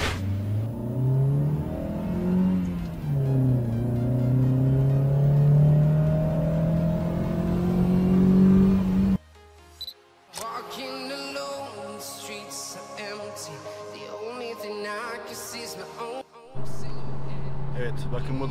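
A Nissan Almera Tekna N16 engine climbs in pitch as it accelerates steadily up a highway ramp for several seconds, then someone talks over quieter road and cabin noise.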